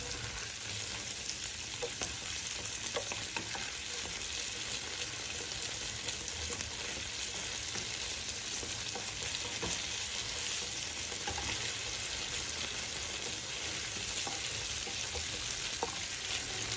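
Tomato paste stirred and fried in a pan for spaghetti in tomato sauce: a steady, dense sizzle runs throughout, with soft scraping and stirring clicks scattered on top, close and fairly quiet, with no talking.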